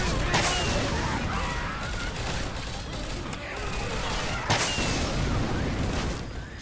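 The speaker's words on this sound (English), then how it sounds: "I gotta take the grenade launcher." Grenade launcher fire in the zombie shooter Left 4 Dead 2, heavy booming bursts in chaotic gameplay noise with distinct blasts near the start and around midway, a voice speaking over it.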